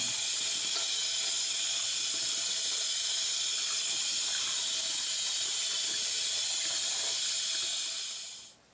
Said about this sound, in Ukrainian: Воду зливаємо, вона нам не потрібна. Ну а гриби? А гриби промиваємо.